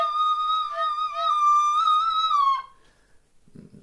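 A Romanian fluier, a traditional wooden shepherd's flute, blown with its finger holes not fully covered, giving one sustained, wavering, slightly off-pitch tone for about two and a half seconds that then stops abruptly.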